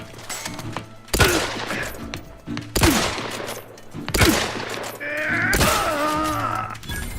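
Weapon fire in The Outer Worlds 2: three heavy, loud gunshots spaced about a second and a half apart, each with a sharp crack and a decaying tail, followed by a rising groan-like tone.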